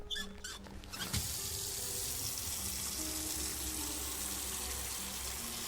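Water runs steadily from a tap into a container in the horror game Autopsy Simulator, a continuous near gushing stream after a few brief clinks at the start.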